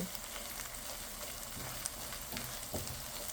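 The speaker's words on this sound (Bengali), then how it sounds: "আস্তে আস্তে একটু ভেজে নেব এখন নেড়ে নেড়ে ডিমটা ভেঙে দেব" Steady sizzling of egg frying in a pan, with occasional scrapes and knocks as it is stirred and broken into small pieces; no voices.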